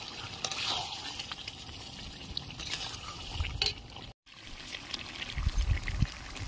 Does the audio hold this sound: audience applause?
no